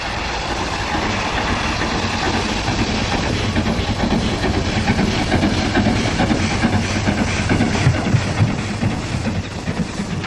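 A train on the Keighley & Worth Valley Railway arrives at Haworth in a snowstorm, a loud, continuous rumble with faint rhythmic clatter of wheels throughout.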